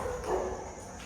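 A dog barks once or twice at a distance, a short faint yelp heard inside an abandoned school building.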